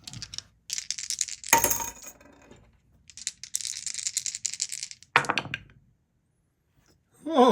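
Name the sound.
two dice rolled for a board wargame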